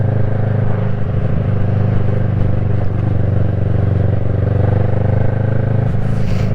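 Commuter motorcycle engine running steadily, a loud, even mechanical drone and rattle that continues without a break and with no voices.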